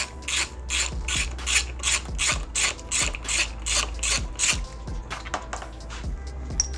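A ratchet clicks in quick repeated bursts while nuts and bolts come off a Hyundai Veloster Turbo during a front-mount intercooler install, loud and close over a low steady hum.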